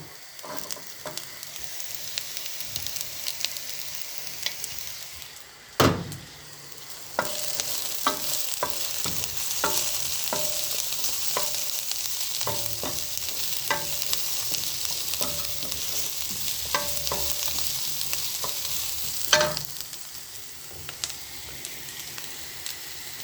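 Carrots and a sprig of thyme sizzling in a pan for bolognese, a continuous loud close hiss with scattered stirring clicks and a couple of sharper knocks.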